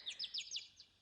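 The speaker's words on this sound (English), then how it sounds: "My bird is reacting to the birds in the game." Birds chirp in the game Code: Realize – Guardian of Rebirth, giving five quick, high, bright tweets in a steady run that fades at the end, soft and alone.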